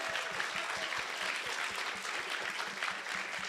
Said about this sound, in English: she also deserves a round of applause